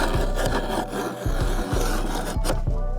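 A round file rasps across the teeth of a chainsaw chain in steady, close strokes, each rhythmic scrape loud and gritty with brief pauses between passes.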